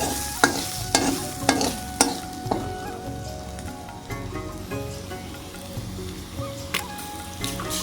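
A spoon stirs beaten egg into boiled potatoes in a pan, making repeated scraping knocks at a fairly steady rhythm early on, then softer irregular clinks under a faint background sizzle.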